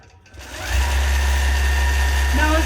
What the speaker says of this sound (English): Now it's going to stitch all the way around.